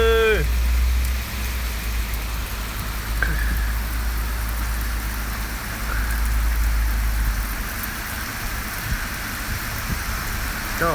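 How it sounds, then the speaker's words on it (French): Steady rain patters continuously against a surface, with a low rumble and a faint passing vehicle in the background. "Malgré le léger soleil qu'il y a là, il pleut!"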